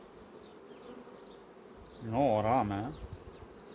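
Honeybees around an opened hive during brood-nest rearrangement, a soft buzz persisting under faint background, with one louder close bee swelling past briefly near the middle; a voice speaks faintly.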